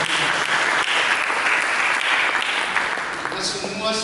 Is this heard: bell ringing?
no